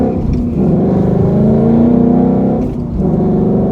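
Manual 2018–2019 Ford Mustang GT accelerating hard, a loud, steady V8 roar with rising pitch that briefly dips near the end, heard close and alone without talk.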